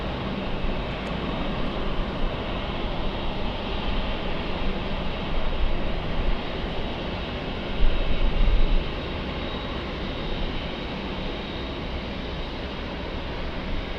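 Delta heavy jet taking off from runway 24 left at LAX: a steady, broad engine roar that holds loud and even throughout, with a brief swell midway and no voices.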